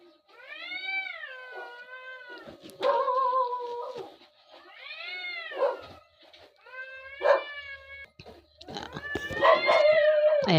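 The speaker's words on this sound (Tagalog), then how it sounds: "Ayan ang ingay ng pusa." Cats yowl and wail in long, wavering cries that rise and fall, with sharp bursts of snarling between calls, nearby and fairly loud.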